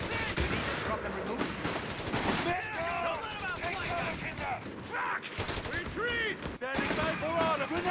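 Heavy gunfire in the video game Company of Heroes 3, with dense machine-gun bursts and scattered rifle shots rattling steadily throughout and shouted soldier voices calling out over the fighting.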